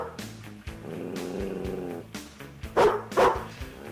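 A great big collie barks at a room door, a few loud, close barks near the end after a stretch of muffled, grumbling noise.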